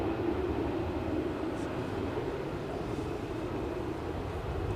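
A passenger jet takes off from Edinburgh Airport bound for Gatwick on a windy day, giving a steady, fairly distant roar with a broad rumbling texture.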